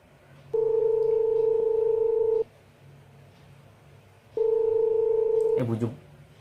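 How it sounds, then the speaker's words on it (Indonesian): A phone call being placed that goes unanswered: two long, loud steady ringback tones with a pause between them, followed by a short burst of something else at the end. "Gue telepon dulu dah."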